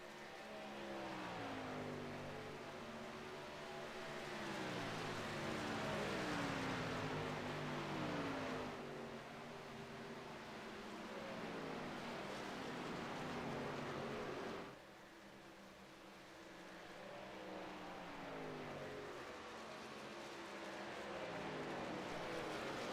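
Race cars circling the track in the Brickyard 150, a continuous loud roar of engines with pitch sweeping up and down as cars pass, swelling and fading in waves with brief dips between groups.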